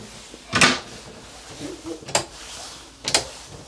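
A dish drawer under the sink aboard an Azimut Atlantis 45 boat slides and thuds three times in distinct, sharp, close knocks spaced about a second apart, with quiet rustling between them.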